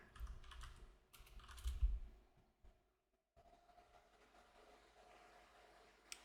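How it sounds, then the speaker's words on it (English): Quiet keystrokes tap on a computer keyboard in short bursts, followed by a pause and a faint hum of the room. "I'll just type it in."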